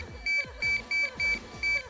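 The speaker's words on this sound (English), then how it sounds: "Why is that beep so loud?" Loud electronic beeps from a MAME arcade emulation stream, five evenly spaced tones in a steady pulsing rhythm, each about a fifth of a second long, sounding close and prominent.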